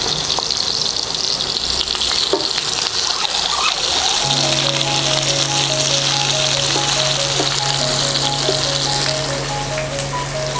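Chopped onion fries in a pan for stuffed tomatoes, giving a steady, bright sizzle that carries throughout at close range, with a low hum and soft tonal beeps underneath.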